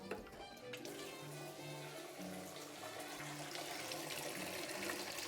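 Cold water running from a kitchen tap, a steady soft splashing stream heard close but quietly, with faint tonal hum and clatter in the background.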